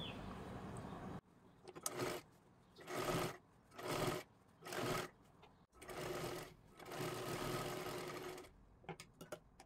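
A sewing machine runs double stitching along a blouse sleeve in several short bursts separated by brief pauses, ending with quick taps.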